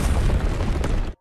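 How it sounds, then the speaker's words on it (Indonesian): A huge explosion destroys the Skynet headquarters in an animated Chinese donghua series, a loud, close roaring boom that fills about a second before cutting off abruptly. "Setelah ledakan yang begitu dahsyat terjadi"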